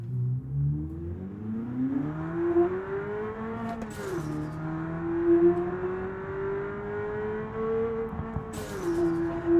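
A late-1980s car making about 500 horsepower accelerates at full throttle from first gear. The loud engine note climbs steadily in pitch, dips briefly at two upshifts, then climbs again, with no voices.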